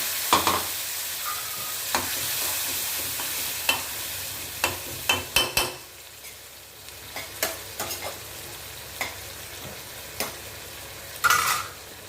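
Tomatoes sautéing in a pan on the stove, a soft steady sizzle with scattered scraping and tapping strokes as they are stirred, close and fairly quiet.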